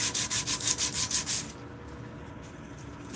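Sandpaper rubbed back and forth over wood, eight quick rhythmic scrubbing strokes at close range, then stopping and leaving low background rumble.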